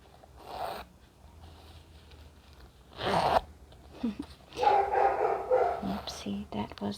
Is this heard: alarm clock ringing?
no